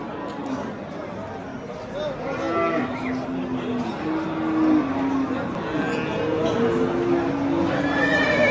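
Horses among cattle at the Oqtepa livestock market in Bulungʻur district, with whinnies and lowing calls rising over a busy crowd murmur and nearby voices throughout.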